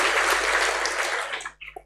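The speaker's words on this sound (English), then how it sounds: "Let's give her a round of applause." An audience at a university vice chancellor's address claps in a dense burst that fades out after about a second and a half.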